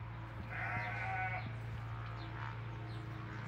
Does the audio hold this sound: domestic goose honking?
no